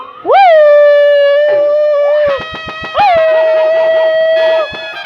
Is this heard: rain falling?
no